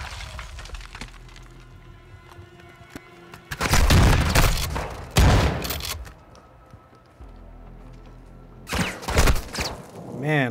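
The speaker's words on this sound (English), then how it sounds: "Oh god, a grenade." A grenade explodes in Call of Duty Modern Warfare II, with heavy booming blasts and gunfire in loud bursts separated by quieter stretches, under a talking voice.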